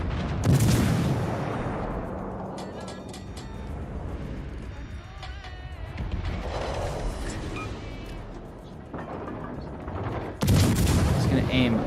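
Battleship main battery guns fire in World of Warships Legends, heavy booming salvos at the start and again near the end, with rumbling shell and explosion noise between and a voice talking over parts of it.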